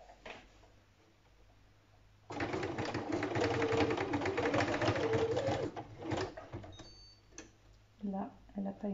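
A sewing machine runs a zigzag stitch along two short fabric edges in one long continuous burst of rapid, even mechanical chatter, loud and close, with someone speaking quietly before and after it.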